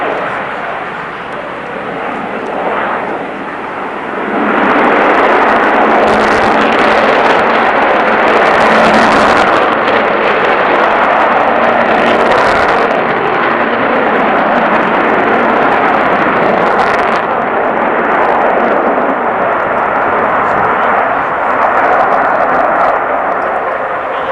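Avro Vulcan B1 bomber jet engines roaring in a sustained, loud broadband rumble that swells after a few seconds and holds steady, with a few brief louder surges.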